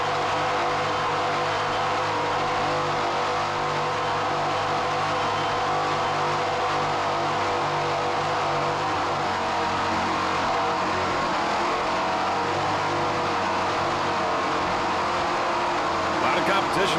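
Offshore powerboats racing at the Jacksonville Offshore Grand Prix, a steady loud roar of high-revving marine engines on calm, humid water, continuous throughout.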